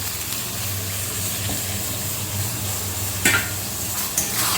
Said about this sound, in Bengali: ম্যারিনেট করা মাংসটা দিয়ে একটু সমস্তটা একসাথে মিশিয়ে নেব